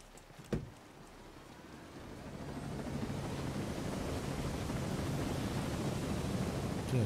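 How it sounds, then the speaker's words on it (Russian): Helicopter in the video game Ghost Recon Breakpoint, a broad rushing rotor roar that swells gradually after a brief thump and holds steady and fairly loud, with no speech. "Как раз вот вертолет."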